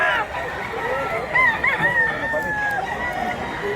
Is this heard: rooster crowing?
yes